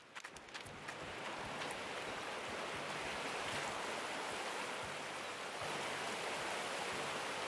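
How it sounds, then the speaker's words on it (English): Steady rushing water flows from a refilled water source in the Gold Rush game, a continuous broadband hiss that swells in after a few soft clicks and holds for several seconds with no talking. "The water source is filled up and the water is flowing again."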